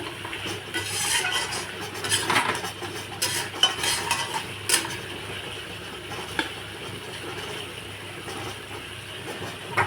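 Meat is stir-fried in a pan for kosha, a continuous low sizzle with intermittent spoon scrapes and stirring, moderately close.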